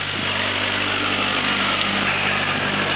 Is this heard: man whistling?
no